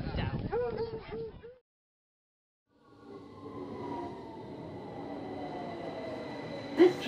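London Underground train running on the line toward Tooting Broadway, a steady rumbling rush with a rising whine and a sharp squeal near the end, preceded by a voice speaking and a brief silence.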